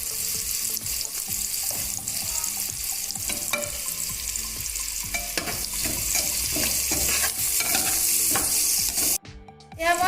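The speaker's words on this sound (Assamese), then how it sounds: "এয়া মই পিঁয়াজ অলপ ভাজি ল'লোঁ।" Onions and green chillies sizzle steadily in a pan while a spoon stirs and scrapes them in a busy, continuous rhythm. Near and loud, with a brief dip at the very end.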